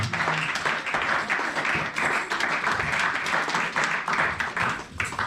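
A church congregation applauds and cheers in praise to God, dense clapping and acclaiming voices filling the room continuously at full volume for several seconds.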